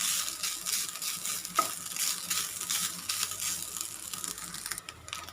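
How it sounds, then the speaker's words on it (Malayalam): Grated coconut roasting in a pan for sadya-style sambar gives a light, steady sizzle with soft scraping stirs and one brief clink, close and fairly quiet, with no talk. "തേങ്ങ ഇതുപോലെ വാടി വരുന്നുണ്ട്"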